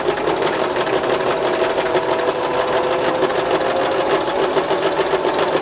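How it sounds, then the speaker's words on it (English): Sewing machine stitching fabric, its rapid needle chatter steady and close for the whole stretch with no talk over it. "Now I'm going to step on the presser foot and I'm going to start sewing."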